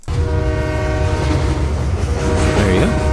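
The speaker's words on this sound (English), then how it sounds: "is the sound of a train" A loud train sound effect played as a theatre show cue, with a steady rumble of cars on the rails and a sustained horn blast, its pitch bending near the end.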